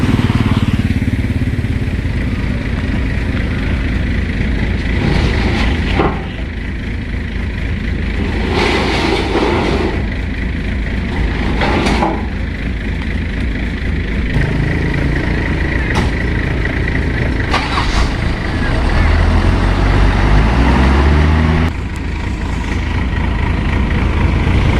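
Maxxi Bimo 102 SS combine harvester working a rice field, its engine giving a steady, loud mechanical drone with rattling and clanking layered on top, running continuously throughout with no voices.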